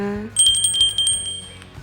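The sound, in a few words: notification bell sound effect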